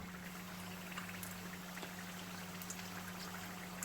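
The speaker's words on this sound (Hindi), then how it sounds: "इनको हम लोग गोल्डन ब्राउन होने तक इसी तरह फ्राई करेंगे।" Chicken samosas deep-frying in hot oil give off a steady, dense sizzle and bubbling hiss, constant and fairly close, with a low hum underneath and no talking.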